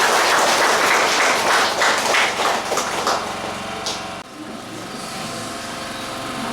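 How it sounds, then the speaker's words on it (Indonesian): Applause from a gathered church community, dense and loud at first, then thinning out and fading after about three seconds into a quieter room hum. "Ya, kita tepuk tangan."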